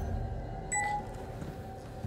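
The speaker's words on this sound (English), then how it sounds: "These would be more effective if they didn't beep," Beeping trap in Resident Evil 4 Remake, a single short electronic beep over a low background rumble.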